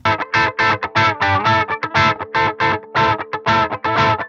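An electric guitar riff runs through a Darkstorm DI box on its clean setting, crunchy and distorted with punchy, choppy picked notes in a fast stop-start rhythm, close and loud with no voices.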